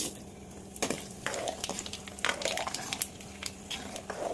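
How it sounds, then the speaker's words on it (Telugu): Steady sizzling of dried red chillies frying in hot oil for tempering, with a few sharper crackles and scraping clicks scattered throughout. "ఆయిల్ వేడెక్కింది ముందు ఎండుమిర్చి చేసుకుంటున్నాను"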